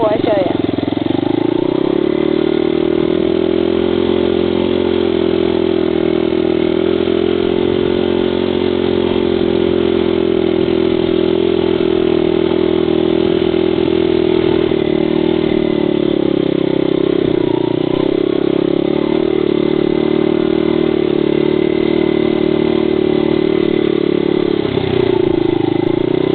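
A motorbike ridden around a loop, its engine droning steadily and loudly throughout with slight rises and dips in pitch as the throttle changes, close and continuous.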